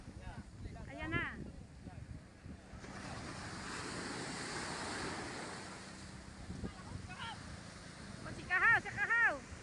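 Ocean waves wash steadily onto the seashore with a continuous surf roar and some wind noise on the microphone, while people shout excitedly over it at times.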